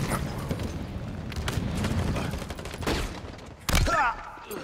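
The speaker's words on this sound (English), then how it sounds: "he shot on point blank with the shotgun and he survived that" Gunfire and booming blasts in Halo Infinite multiplayer, including a point-blank shotgun shot, with a burst of loud shots near the end and voices underneath.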